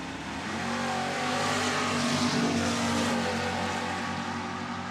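A Camaro races down a drag strip at a Funny Car Chaos nitro event, its engine a loud, continuous roar holding steady for the whole stretch.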